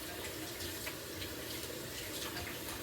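Tap water runs steadily into a sink during an evening skincare routine while the face is being rinsed, a constant, even rush with no talk.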